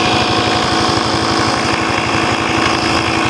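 Small engine running steadily to power a pump, a close, loud, rapid chugging pulse with continuous droning mechanical noise and no talk.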